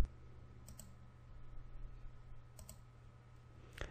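Mouse clicks on an apply button in the Web.com website builder, a few faint isolated clicks over quiet room hum.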